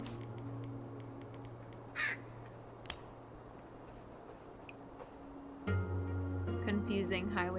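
Crows caw in the video game Cloud Gardens, a few sharp calls scattered over a steady low ambient hum, with a brighter burst of bird chatter near the end.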